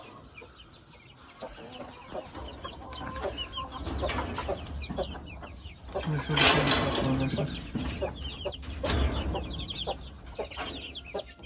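Chickens and chicks cluck and peep in a busy, overlapping chorus close by, with short sharp calls scattered throughout, while someone speaks briefly in the middle.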